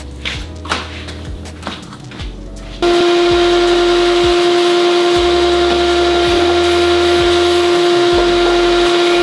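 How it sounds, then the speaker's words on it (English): Vacuum cleaner switching on and running steadily with a constant whine while cleaning under an MFT workbench table, preceded by a few seconds of tool clatter. "let's vacuum out this side"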